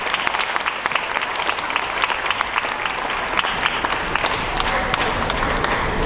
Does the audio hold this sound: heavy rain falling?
no